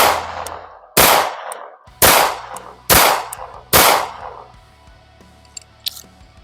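Four loud, sharp pistol shots from a Sar B6C polymer-frame handgun fired at a target, evenly spaced about a second apart, each with a short ringing decay, followed by quieter handling clicks.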